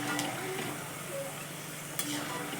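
Coconut and peanuts being fried and stirred in a pan, a soft steady sizzle with a few light scraping stirs, fairly faint and with no talking.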